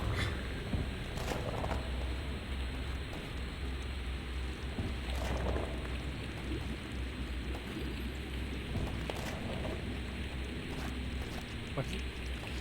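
Steady rain ambience in the video game Morkredd, a continuous hissing wash with faint scattered drops, holding at an even level throughout with occasional brief louder bursts.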